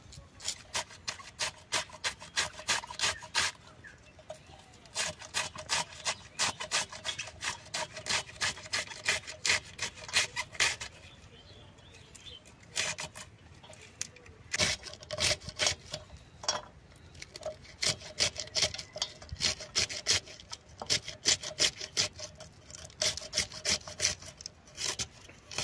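Cabbage being sliced with a knife for drying, a long run of quick, rhythmic cuts with crisp crunching strokes and short pauses between batches, close and fairly quiet, and a voice speaks now and then.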